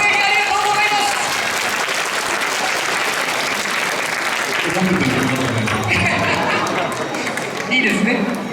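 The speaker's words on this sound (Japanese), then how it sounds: "小さなお子さんも拍手してくれたりしてくれてますよ。" An audience at a sumo stable fan event applauds in a broad, steady wash of clapping for several seconds, with people talking over it and small children among the crowd.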